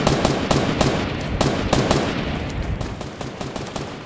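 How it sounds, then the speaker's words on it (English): Rapid automatic gunfire in the Fortnite video game, a steady stream of sharp, evenly spaced shots over a dense background of game noise, loud and close. "you're getting shot at"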